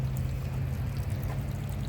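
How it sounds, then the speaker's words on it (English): Hot spring water at Yellowstone runs steadily over mineral-built rock, a close, continuous pouring wash with a low rumble underneath and no voices. "as the water runs, it builds it up into a hill like this with water on the top"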